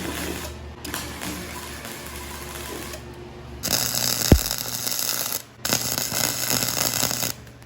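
Tack welding steel ladder steps onto a Ford Excursion: steady crackling, buzzing arc bursts of a few seconds each, with a short sharp mechanical click in the middle and brief gaps between welds, close and fairly loud.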